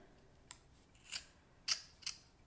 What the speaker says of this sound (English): So take your scissors, cut my scissors right here